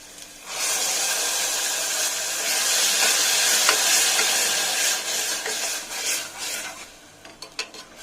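Ground paste of three tomatoes hits hot oil in a pan for a soya chunk gravy, bursting into loud, steady sizzling that hisses for several seconds, then breaks into sputtering crackles as it settles.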